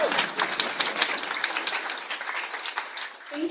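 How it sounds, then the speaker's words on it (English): An audience at a lightning-talk introduction session gives a round of applause, lively clapping from a crowd that fades out toward the end. "Cue round of applause."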